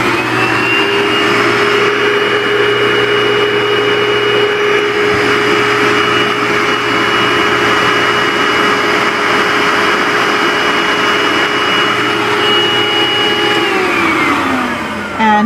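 A Bissell SpotBot Pet Deluxe carpet spot cleaner runs its deep clean cycle with a loud, steady motor whine and hum that holds level for the whole stretch, then winds down at the end.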